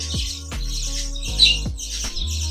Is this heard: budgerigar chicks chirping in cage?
yes